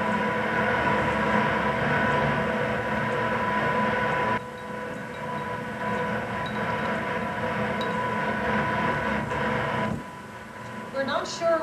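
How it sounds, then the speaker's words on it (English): Water misters run at an ASARCO smokestack demolition site, giving a steady, loud broadband hiss and rumble that drops in level partway through and again near the end. "We're assuming it's noise from the misters."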